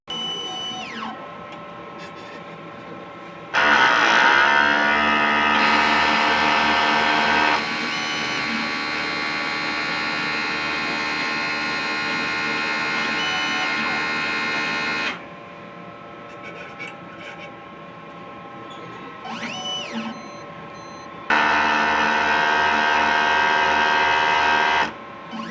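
An inkjet printer runs a print head cleaning cycle: a steady electric hum broken by loud, buzzing motor stretches that start and stop abruptly, with short whirring sweeps between them.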